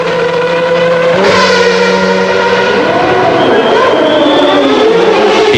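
A 1994 McLaren Formula 1 car driven by Martin Brundle drones loudly at speed-limited revs through the pit lane at the Monaco Grand Prix, its pitch shifting as it moves, under a commentator talking.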